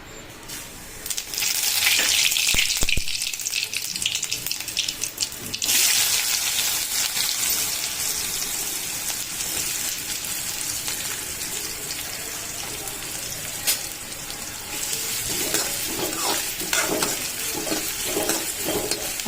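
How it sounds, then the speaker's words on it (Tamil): Dried anchovies frying in a pan with fennel seeds, garlic and onion give a steady, close crackling sizzle with bursts of stirring, loud and continuous throughout with no one talking. "நெத்திலி கருவாடு எப்படி வறுக்குதுன்னு பார்க்கலாம்"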